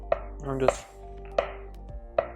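A kitchen knife cuts through an avocado for guacamole, making four sharp, close chopping taps against a board in an uneven rhythm, with light handling noise between them.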